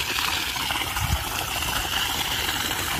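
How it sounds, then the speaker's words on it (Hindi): A solar-powered 5 hp pump sends water gushing from a 3-inch pipe on a farm, making a steady, close, broadband rushing noise throughout. "3 इंची पाइप है ये, अच्छा पानी निकाल रहा है।"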